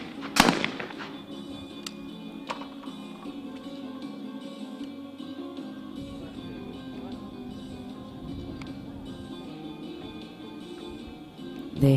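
Shotgun blasts at a women's team skeet medal match on an outdoor range, one sharp loud report opening the stretch and a couple of fainter cracks later over steady crowd and ambient noise.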